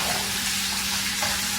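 Country potatoes frying in a pan, a steady close sizzle that holds at an even level throughout, with a faint stir as the pieces are turned.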